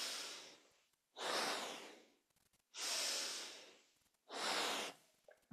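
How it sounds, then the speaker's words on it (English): Deep breathing during a kundalini yoga kriya: four long, loud breaths close to the mic, alternating inhales and exhales in a slow, even rhythm. "you're breathing deep in synchronicity with the breath"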